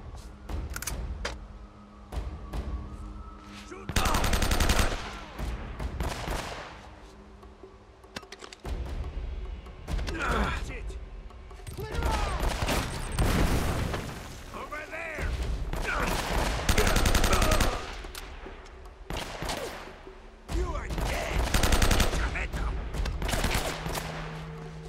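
Repeated heavy shotgun blasts and bursts of gunfire in the video game Uncharted: Drake's Fortune, loud irregular cracks separated by short pauses, mixed with game noise and occasional talk.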